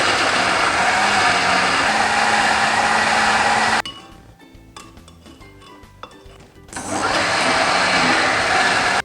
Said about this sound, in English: Now it's time to blend.